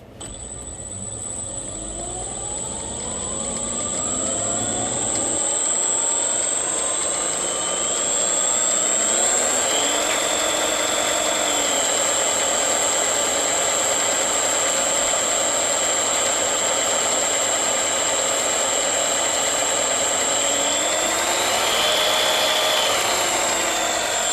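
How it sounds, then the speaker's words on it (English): A Sieg mini lathe runs steadily with its lead screw driving the carriage away from the headstock, a continuous mechanical whine and gear hum that rises and shifts in pitch, alongside a constant high tone, with no talking. "you'll see that the carriage will move away from the headstock now."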